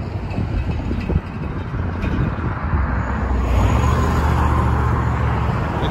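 Cars driving past in a mall parking area in Tucson, a steady outdoor rumble of engines and tires that swells louder in the second half as a vehicle draws near.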